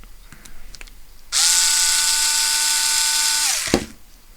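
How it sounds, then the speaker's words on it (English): A Bosch IXO cordless electric screwdriver whirs in a steady, loud, close-up run lasting a couple of seconds, beginning abruptly and ending with a brief winding-down click, while removing screws from an HPI Bullet ST 3.0 nitro RC truck. "it's going to be quicker with my screwdriver"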